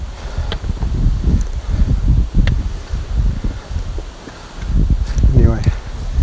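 Strong wind on the West Highland Way hiking trail in Scotland buffets the microphone with loud, low, gusting rumble that swells and fades, alongside rustling and footsteps, with a voice briefly speaking under it.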